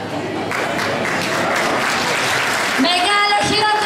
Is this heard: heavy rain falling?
no